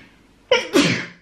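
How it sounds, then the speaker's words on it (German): A single loud, close sneeze: a sharp intake breaks into a burst, then a breathy tail, in an otherwise quiet room. "Ich muss niesen."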